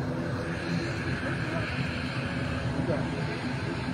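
An airplane engine drones steadily at an airport, a broad continuous rumble under people chatting nearby.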